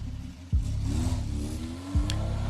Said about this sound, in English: The sound of the departing car's engine started the countdown.